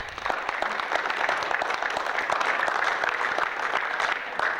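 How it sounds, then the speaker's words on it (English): An audience applauds a lecturer on African history at a talk, the clapping dense and steady throughout at moderate level, without clear talk over it. "let's give Elder Baba Runoko Rashidi another round of applause"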